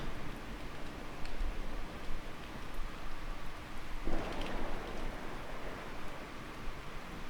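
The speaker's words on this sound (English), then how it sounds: "Can't even hear the ATV, the loudness of the rain and the thunder." Heavy, steady rain hisses throughout in the video game Miscreated, with a low rumble of thunder swelling midway; no voices.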